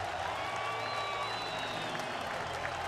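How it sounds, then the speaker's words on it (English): A baseball crowd at a World Baseball Classic game between the Dominican Republic and Venezuela applauds Johan Santana, a continuous wash of distant clapping and murmur that stays level throughout. "listen to the applause for Santana."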